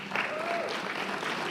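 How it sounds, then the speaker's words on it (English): An audience at the Xavier Academy graduation ceremony claps in a continuous, even wash of applause, with a faint voice and a brief whistle-like tone rising over it. "Big round of applause."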